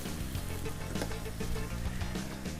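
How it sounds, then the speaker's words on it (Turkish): Börek filling with red pepper flakes sizzles loudly in a hot pan, a dense continuous crackle with faint scraping strokes as it is stirred, close and with no talk. "Ben biraz da kırmızı toz biber ekleyeceğim. Şöyle tekrar bir karıştırıyorum"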